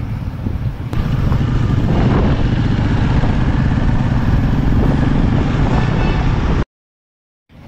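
Motorcycles riding along a highway toward Siliguri, heard as a loud, continuous engine drone with heavy wind buffeting on the microphone that cuts abruptly to silence near the end.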